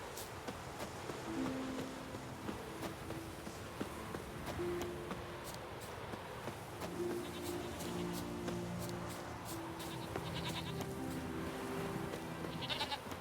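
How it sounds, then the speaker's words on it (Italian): Goats bleat several times at moderate distance over a steady ambient wash, with scattered clicks and soft footsteps in the background, in the video game The Witcher 3. "Ci sono delle capre!"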